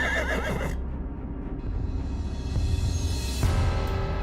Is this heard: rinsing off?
no